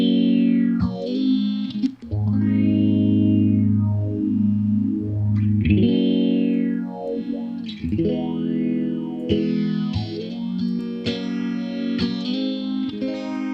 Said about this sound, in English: it's just like giving you the standard phaser sound